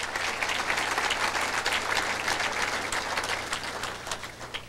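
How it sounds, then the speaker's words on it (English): Audience at a Watertown hall of fame ceremony breaks into a dense, steady round of applause, many hands clapping together in a full, even wash that holds for several seconds and eases slightly near the end. "Give them a big round of applause."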